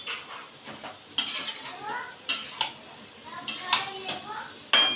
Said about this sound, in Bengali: মা এটাকে আবার ঢাকনা খুলে আবার আমি একটু কষাচ্ছি